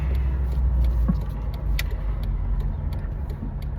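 Car interior on a drive, a steady low engine and road rumble filling the cabin with small rattles and clicks, no voices.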